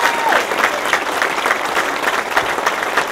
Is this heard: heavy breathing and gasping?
no